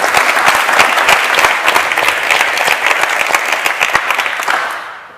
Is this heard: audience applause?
yes